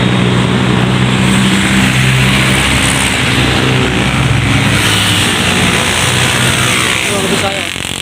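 Heavy road traffic on a route toward Manila, with car engines and passing vehicles making a loud, steady rumble throughout and a voice speaking over it.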